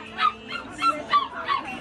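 A white bạch khuyển hunting-mix dog for sale at a busy Hai Phong pet market lets out four yappy barks at a steady pace. They sound over a bed of market background noise with faint voices.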